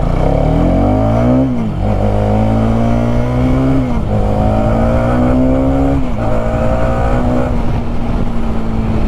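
A 2024 Hero XMR 210 motorcycle accelerates hard, its engine note climbing with each gear before short dips at the shifts, repeated three times, loud and close.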